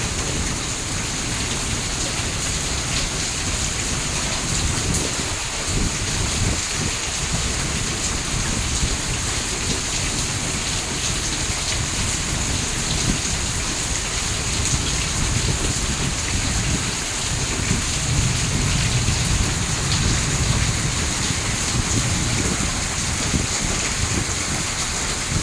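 Heavy rain pours steadily during a hailstorm, a dense continuous roar of drops hitting surfaces with occasional low rumbles of thunder, loud and unbroken throughout with no talk.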